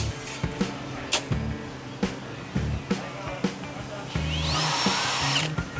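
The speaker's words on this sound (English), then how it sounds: "we drill a 5/64 hole" A power drill bores a 5/64 hole into an automatic transmission valve body for a 4R75W shift kit, heard as short repeated bursts of close whirring with brief pauses between them.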